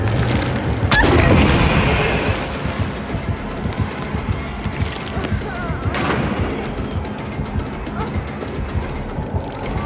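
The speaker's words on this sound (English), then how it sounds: "she's resetting this generator. Like, she's making it explode" Generator blowing up in the horror game Dead by Daylight, a heavy boom with crashing mechanical clatter, followed by a second burst and ongoing rattling game noise.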